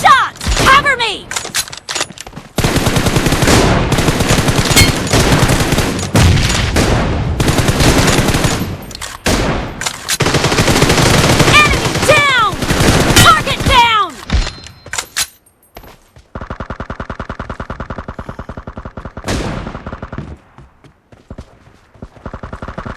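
Rapid gunfire crackles almost nonstop in the Mizo Arena multiplayer shooter, loud bursts of automatic fire mixed with game announcer voice lines, then fading to quieter tonal game sounds near the end.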